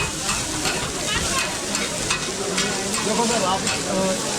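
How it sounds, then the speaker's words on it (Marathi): Tawa pulao, a vegetable pulao, stirred and frying on a large street-stall griddle at a busy night food market, with a steady dense sizzle and scraping throughout. "तवा पुलाव, व्हेज पुलाव बनतो बघा"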